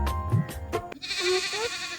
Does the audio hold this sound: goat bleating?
yes